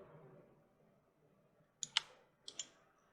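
Computer mouse clicks during 3D modeling work: two quick pairs of sharp, close clicks, about half a second apart, over a faint quiet room background.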